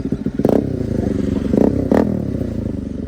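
A motorcycle with a free-flow exhaust idles with a loud, rough, crackling rumble, punctuated by three short sharp throttle blips close to the microphone.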